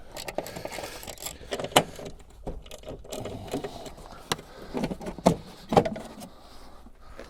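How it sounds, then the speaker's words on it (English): A 10mm socket on a ratchet loosening the airbox nuts of a BMW E36 under the hood, a run of close metallic clicks and clinks with sharp taps and a few rattles between. "We'll grab the 10mm, we'll get in here and pop off the main airbox nuts."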